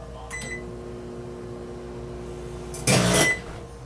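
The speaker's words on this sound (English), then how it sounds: "Your microwave is broken, I don't know what's going on. It keeps fucking flashing and making noises." A broken microwave oven hums with a low steady tone, gives a couple of brief beeps early on, then lets out a short, loud, harsh burst of noise near the end, heard close up in a kitchen.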